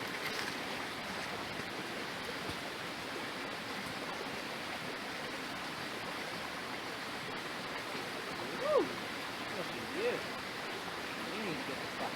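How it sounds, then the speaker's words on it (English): Creek water flowing at Hanging Rock State Park, a steady broadband rush heard from nearby, continuous and even, with a couple of faint short chirps near the end. "There you go, now you're in the creek."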